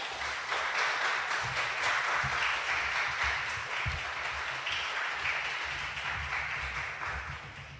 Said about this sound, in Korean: 이병일 교수님 나오실 때 우리 큰 박수로 환영하도록 하겠습니다